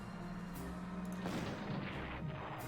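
Tank attack on Panzers in the strategy game Panzer Corps Gold, rendered as quiet muffled artillery booms and gunfire rumbling together with no talking.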